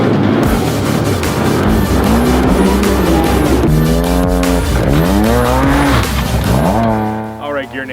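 A Yamaha Viper snowmobile with a custom GGB exhaust rips through a field, its engine loud and close, revving and rising and falling in pitch as it accelerates and passes.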